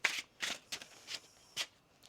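Tarot cards are riffled and shuffled in several quick bursts, crisp papery rustles separated by short pauses, close and alone.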